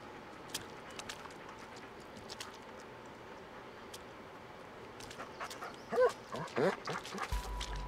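A dog in the Blair Witch video game barks and whimpers, with short yips and whines clustered near the end over a low, murky ambient backdrop.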